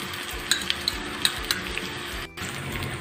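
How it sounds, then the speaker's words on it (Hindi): Garlic-ginger paste fries in a cup of hot oil with browned onions for keema matar, a steady sizzle broken by sharp clinks and scrapes of the stirring spoon against the pan, with no talking. "प्याज हमारे भून चुके हैं, अब इसमें हम डालेंगे लहसुन अदरक का पेस्ट।"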